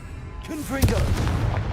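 A Confringo blasting spell in Hogwarts Legacy: a whooshing cast followed by a heavy booming impact and rumbling burst, with a voice speaking over it.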